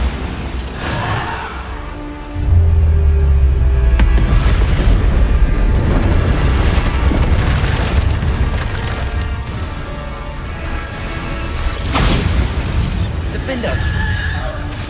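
Bombarda explosion spells in the video game Hogwarts Legacy set off a heavy, rumbling boom with crashing debris that sustains for several seconds, with game voices shouting spell names over the blasts.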